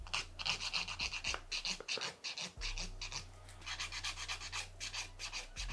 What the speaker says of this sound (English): We're gonna use the coarse side of the file. And just smoothing everything out.